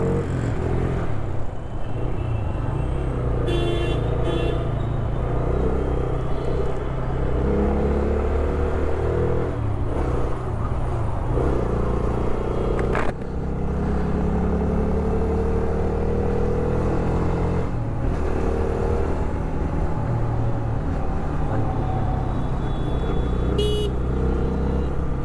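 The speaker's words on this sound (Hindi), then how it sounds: "ट्रैफिक तो बहुत तगड़ा है" Dense, heavy road traffic at a busy junction rumbles continuously and loudly, with engines and motorcycles droning close by and scattered car horns tooting now and then.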